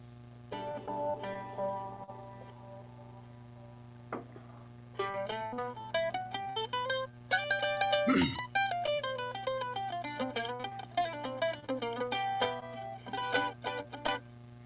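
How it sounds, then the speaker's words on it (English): Plucked mandolin notes played as a melody through a K&K acoustic pickup, direct signal with room mics muted, sounding dry and close with a slightly thin, direct tone over a faint steady hum. "That is the sound of the K&K pickup, as direct as I can get."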